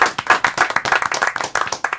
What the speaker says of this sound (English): Couldn't help but notice 2 people clapped